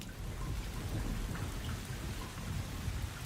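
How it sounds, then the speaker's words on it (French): Steady, persistent rain hisses without a break across the whole stretch, dense and fairly loud, with low rumbling underneath, at a murky airport during poor-visibility weather. "La pluie est persistante."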